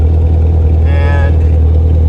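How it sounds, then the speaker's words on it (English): The exhaust of a 2013 Chevrolet Camaro ZL1 with a 580 hp engine and valved NPP exhaust rumbles loud and close with a deep, steady idle drone throughout. "So that means the exhaust, you can make it louder or quieter."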